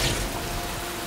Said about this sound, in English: I love how it's raining.